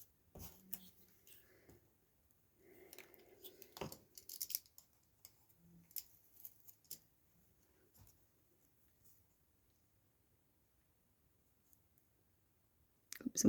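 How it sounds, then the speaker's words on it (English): Scissors trim paper while botanical journals are decorated at a craft table: faint, scattered snips and soft clicks of paper handling, quiet and close, with long near-silent gaps and no talking. "And again, I'll trim that off."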